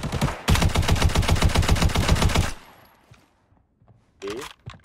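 Rapid automatic gunfire in the mobile shooter Arena Breakout, a loud, close burst of many evenly spaced shots lasting about two seconds, then fading to quiet with a brief later noise.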